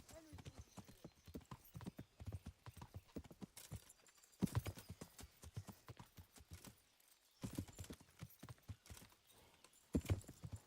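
Horse hooves clip-clop on a path in the video game Kingdom Come: Deliverance, a steady rhythm of close hoof strikes with brief pauses, and a person talks over them at times.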